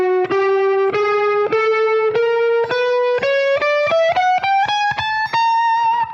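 Electric guitar with distortion and effects plays an extended rock-blues scale including the 9th and 13th, single picked notes stepping steadily upward, loud and close with no talking.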